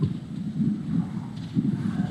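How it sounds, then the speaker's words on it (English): Strong Atlantic wind gusts of nearly 50 miles an hour batter the coast at Ocean City, Maryland, a low, rumbling roar of wind buffeting the microphone in uneven surges. "we've got nearly 50-mile-an-hour wind gusts here on the Atlantic Ocean"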